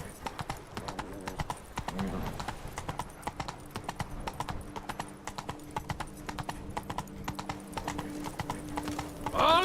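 Roach, a horse in The Witcher 3, trots with steady, rhythmic hoof clops close by, a brief whinny near the start and a faint voice at one point.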